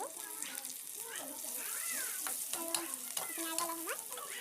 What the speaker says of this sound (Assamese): এইখিনি আৰু অলপ সময় ভাজি লৈছোঁ।